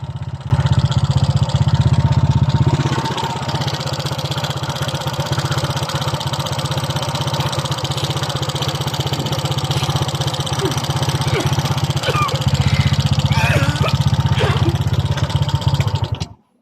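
A Honda Click 125 scooter fitted with stage 2 Block 56 cams and new valve springs idles loudly and roughly up close, a steady clattering engine drone with no break.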